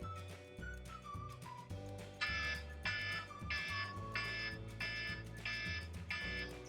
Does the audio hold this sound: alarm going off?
yes